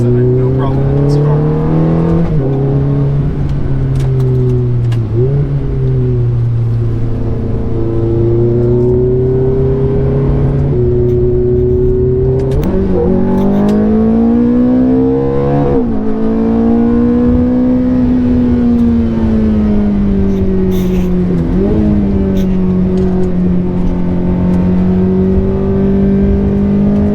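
A 2006 Ferrari F430 sports car engine runs steadily, its pitch climbing and falling with repeated revs and shifts across the whole stretch, loud and close with voices talking over it.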